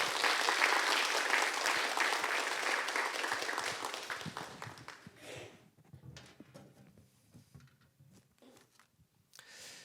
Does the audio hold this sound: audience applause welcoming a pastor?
yes